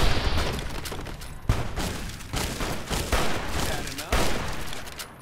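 Gunfire in Fallout: New Vegas: repeated loud, sharp shots and booming impacts arrive in irregular bursts over a busy, noisy combat background.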